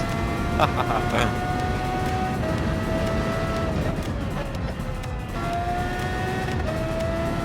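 A high-pitched Formula racing car engine in Gran Turismo 7 revs continuously, rising and falling as it shifts gears, loud and steady throughout.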